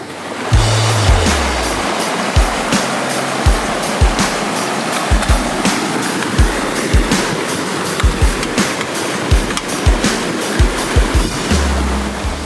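A Jeep drives through water on an off-road trail at an off-road park, washing its body off: a loud, steady rush of churning water broken by repeated splashing surges, with no voices.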